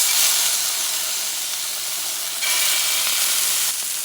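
Scallops hit a preheated pan and sizzle loudly, a strong steady hiss that flares up again partway through.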